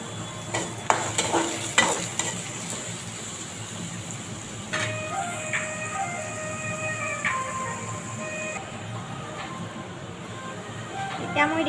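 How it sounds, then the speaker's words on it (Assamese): Onions fry in a pan with a continuous, moderate sizzle, joined by occasional stirring clinks and faint background noise. "পিঁয়াজখিনি ৰঙা নোহোৱালৈকে মই ভাজি ল'ম।"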